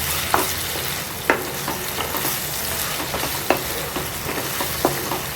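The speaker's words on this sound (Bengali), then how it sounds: "রসুন আদাটাও হয়ে গেছে গলে গেছে এখন আমি এগুলো সব মিক্স করে দিই" Garlic and ginger masala frying in a pan while being stirred, a dense constant sizzle with a few spaced spatula scrapes standing out, loud and close with no talking.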